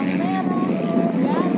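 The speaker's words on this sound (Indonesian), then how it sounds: "Anginnya terlalu ekstrim bro." Strong wind gusting roughly and steadily across an open roadside, with a dense rumbling rush filling the whole short moment.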